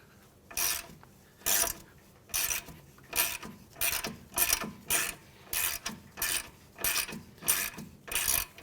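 Rapid ratchet wrench bursts loosening an inner tie rod nut on a 2015-2019 Hyundai Sonata, about ten evenly spaced clicking strokes, close and loud with no talking.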